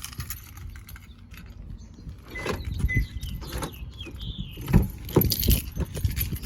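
Car keys jangle and rattle up close as a BMW door is opened, with a few sharp clicks and handling noises in a quiet setting, no talking.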